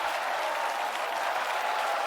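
Crowd applause at the Grand Beatbox Battle 2025 during the Dice versus Martin Benati battle. Continuous, even clapping from a large audience holds at a steady level throughout.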